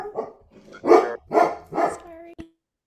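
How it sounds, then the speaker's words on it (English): A dog barks three times in close succession, loud and near, indoors during a virtual meeting, followed by a short tail of quieter sound and then silence. "Someone's got a dog."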